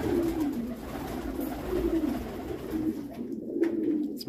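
Several pigeons on a pigeon farm in Damietta, Egypt, coo softly and repeatedly in low, rolling calls over a faint background hum.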